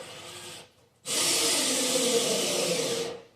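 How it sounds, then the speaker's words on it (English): A power drill runs at partial trigger driving screws, a steady whirring burst of about two seconds following a brief earlier run and a short pause. "if you noticed on the drill, I did not go full speed"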